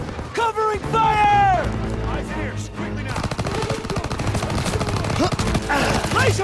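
Machine-gun and rifle covering fire in a World War II game battle, dense rapid bursts running throughout under shouted squad voices and orders.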